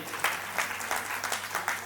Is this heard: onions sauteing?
no